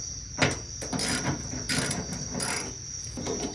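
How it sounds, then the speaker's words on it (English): A Torx bit loosens two bolts holding a side marker light on a 1986 GMC, giving a few sharp mechanical clicks and scrapes against a steady background hiss, close and fairly quiet. "you take your Torx bit, you come over here, and you loosen the 2 bolts that are holding this on"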